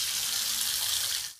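Rusty water runs hard from a tap in a low-quality new apartment building, a steady broadband hiss and splash that cuts off abruptly at the end, with no voices.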